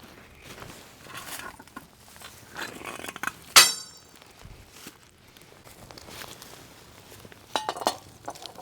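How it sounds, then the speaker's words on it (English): Stainless steel pan and plate clink as they are set over hot coals outdoors in a tarp shelter, with one sharp metallic clank standing out among quieter scrapes and a few light taps near the end. "I'll go ahead and put the pan and the plate, this is all stainless steel, over the coals"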